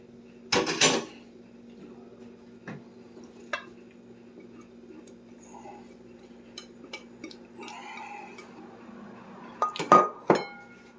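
Beaten egg mixture for meatloaf stirred in a bowl in a bar and grill kitchen, with a few sharp clinks of utensil against the bowl near the start and end and quiet scraping over a low background hum.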